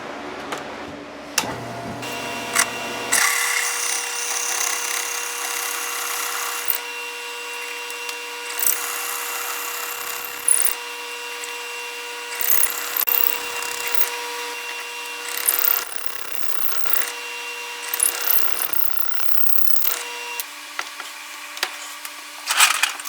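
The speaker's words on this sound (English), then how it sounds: "I'm going to drill it on the lathe again." A drill bit grinds into wood on a spinning lathe, a steady motor whine with uneven scraping bursts and pauses, loud and close.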